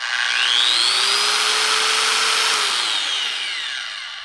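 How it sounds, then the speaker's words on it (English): An Arbortech mini carver power tool set to 18,000 RPM whirs loudly and steadily, with a high whine that builds through a gentle start and fades slightly toward the end. "Now in the mini carver, these are both set at the same RPM"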